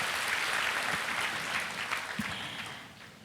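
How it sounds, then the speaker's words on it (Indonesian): Congregation applauding during a church service, a moderate wash of clapping that holds steady and then fades out toward the end, with no voices over it. "Beri tepuk tangan yuk buat Tuhan kita Yesus Kristus."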